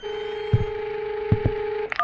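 A phone in a Russian-language horror video game plays a steady dial tone, with soft clicks and a short burst of rising dialing tones at the end.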